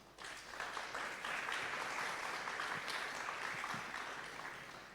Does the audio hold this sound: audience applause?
yes